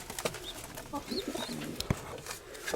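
Grey and steel-coloured pigeons in a dovecote, several soft coos up close, with rustling and brief wing or movement noises around them.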